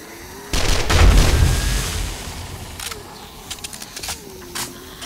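Gunshots from firearms in the survival game 7 Days to Die, starting with a loud burst of rapid firing and a heavy booming spell, then trailing into scattered sharper single shots with quiet gaps between them.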